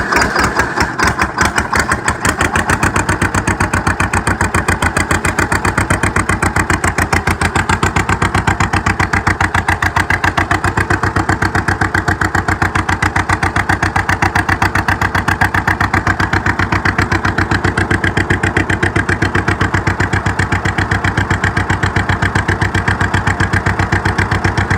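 A John Deere 70 tractor engine cold-starts with a rough cranking catch, then settles into a loud, close, steady rhythmic idle of fast even pulses that continues without a break.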